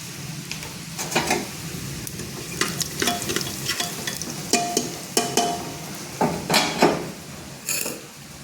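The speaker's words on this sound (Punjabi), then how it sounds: "ਪਹਿਲਾਂ ਆਪਾਂ ਲਸਣ ਤਲਕਾਵਾਂਗੇ ਤੇ ਲਓ ਜੀ ਆਪਾਂ ਇਹਦੇ ਵਿੱਚ ਪਾਤਾ ਥੋੜਾ ਜਿਹਾ ਜੀਰਾ" Garlic and cumin seeds frying in oil in a pan, with a constant close sizzle under repeated stirring strokes and scrapes of a utensil against the pan at an uneven rhythm.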